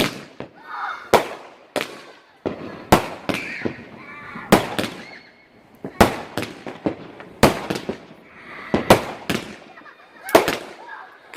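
Small bonfire night fireworks display, a series of sharp cracking bangs and pops at irregular intervals, fairly close and loud, with crackling tails between bursts and voices chatting in the background.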